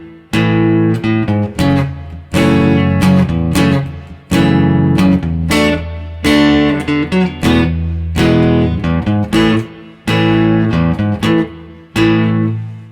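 An acoustic guitar plays a song's intro and accompaniment alone, loud and close, with rhythmic plucked bass notes and chord strums repeating in short phrases separated by brief gaps.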